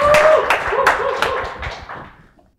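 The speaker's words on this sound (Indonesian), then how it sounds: "Tepuk tangan buat Saiful." A studio audience at a mock presidential debate claps for Saiful in a short, scattered burst of hand claps that starts loud and close, then thins out and fades to silence within about two seconds.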